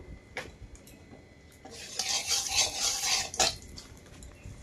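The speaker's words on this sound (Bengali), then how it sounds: "কড়াই কিন্তু গরম হয়ে আছে, তেল দিয়ে দেবো।" Oil going into a hot kadai (wok) in a Sundarbans village kitchen, a burst of broadband sizzling and scraping from a metal spatula that swells for about two seconds, close and fairly loud, with no talking.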